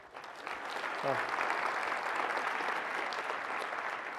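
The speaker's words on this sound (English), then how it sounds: "So one little round of applause for her as well." Audience applause fills a conference keynote hall, a steady wash of many hands clapping throughout, with a brief voice near the start.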